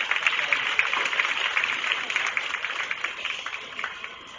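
A county fair goat show crowd gives a steady round of applause for young exhibitors, dense clapping spread evenly throughout, fairly close and alone without talk.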